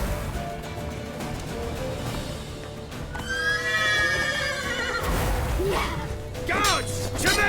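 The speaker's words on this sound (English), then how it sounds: "Grab a horse to the temple!" A horse in The Witcher 3 video game neighs loudly twice amid galloping hooves and combat clatter, with voices shouting over the action.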